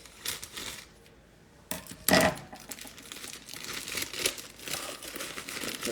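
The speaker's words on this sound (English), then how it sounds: "we're gonna do a full bag of cake mix, which I need my scissors to open" A bag of cake mix is cut open with scissors in a kitchen, giving close, soft plastic crinkling and a sharp snip-and-tear burst in the middle, then more rustling of the bag.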